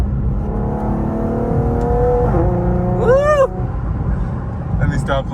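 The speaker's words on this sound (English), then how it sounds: "One more downshift for y'all." A car at a Houston car meet revs hard through a downshift, its engine note sweeping up sharply and falling back, loud and close over constant engine rumble, with voices and crowd noise around it.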